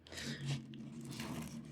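A dog near a bed lets out a faint, low, steady growl lasting a couple of seconds, with soft breathy noise layered over it.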